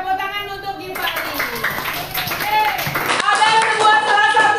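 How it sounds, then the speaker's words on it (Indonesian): Students in a classroom lesson clap for a classmate, brisk group clapping mixed with children's and adult voices, with abrupt shifts in the sound partway through. "Tepuk tangan untuk Gifari."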